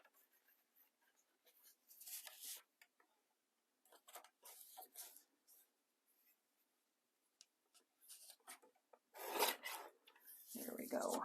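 Paper cut down by hand for junk journal signatures, heard as several close, brisk scraping and rasping strokes in separate bursts between quiet gaps, with faint handling sounds.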